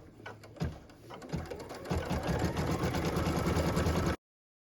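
A sewing machine stitching a tack-down line on fabric held with tape, starting with a few slow stitches, then running in a fast, steady close whir until it stops abruptly.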